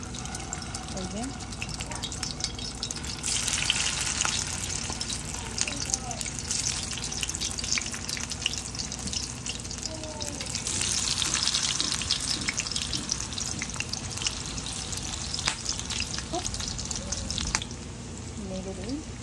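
Beef kebabs fry in a pan while being turned, a steady crackling sizzle with occasional scraping and light knocks, close up, with someone talking faintly at times over the cooking.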